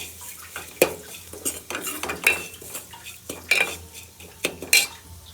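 A spoon clanks and scrapes against a metal pot as pepper, cumin, garlic and curry-leaf spice powder is stirred into rasam, with sharp irregular knocks and rattles close up and no voices.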